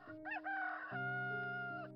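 A rooster crows once, a loud, drawn-out and close cock-a-doodle-doo lasting about two seconds with no other sounds around it.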